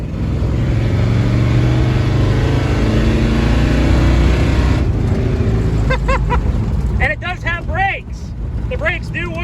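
An old classic car's engine runs as it drives along with a steady, loud rumble and road noise, while a voice speaks over it toward the end.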